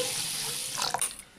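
Water runs briefly from a tap with a steady hiss while sago is washed for khichdi, followed by a few splashes at the end.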